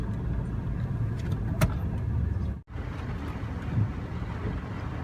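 Car interior stuck in heavy expressway traffic near Balintawak, a steady low engine and road hum with a brief dropout midway, close and continuous with no talk.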